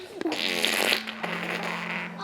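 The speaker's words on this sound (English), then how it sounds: "The fart noises." A baby blows wet, buzzing raspberry fart noises with the lips, a close, loud sputtering burst followed by a sustained vibrating hum.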